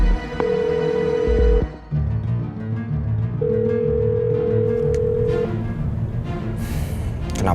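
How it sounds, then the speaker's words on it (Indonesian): A telephone rings unanswered, two steady electronic ring tones, one short and one longer, cutting through a busy indoor scene with background sound. "Kenapa sih Yasmin nggak angkat telepon?"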